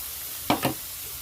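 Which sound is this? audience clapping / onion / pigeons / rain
onion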